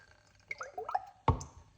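Okra water is poured back into a bowl in a brief, quiet trickle and a wet splash, ending with a small drip.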